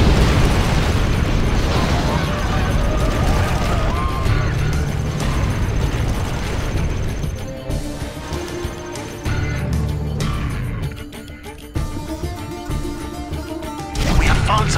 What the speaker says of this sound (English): Launching airstrike.